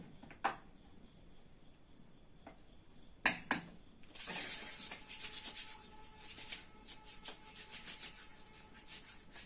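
A cardboard headphone box being wiped with sanitizer gives soft rubbing and scuffing strokes close by, with a few sharp taps and clicks before the wiping begins.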